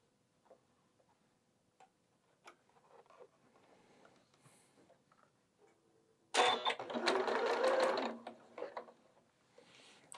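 A sewing machine runs thread through a quilt in a single loud, steady burst of a few seconds, preceded by faint ticks and handling sounds.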